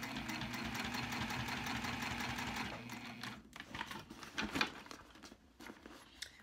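Sewing machine slowly stitching a cork bag, a steady close motor hum with regular needle knocks for about three seconds, then stopping and giving way to quieter handling clicks and rustles.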